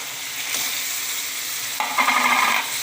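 Crab pieces go into a hot pan of sautéed masala for crab kuruma, sparking a steady sizzle that jumps louder and crackles more sharply partway through as stirring continues.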